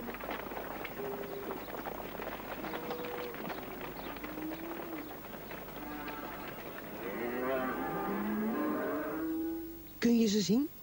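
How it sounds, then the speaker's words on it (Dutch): Cattle on a farm, adult cows with calves, moo repeatedly in long drawn-out calls, several overlapping from nearby over a constant background bustle of hooves and movement. "Daar komen de koeien de weg op."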